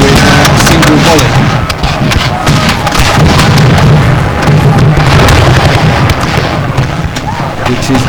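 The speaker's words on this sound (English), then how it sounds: "Infantry Regiment 26 is not terribly impressed with this attack and simply sealed off with a single volley" Musket volley fire from an infantry regiment in a wargame, loud dense crackling and booming bursts filling the whole stretch alongside rumbling battle noise, with a voice talking over it.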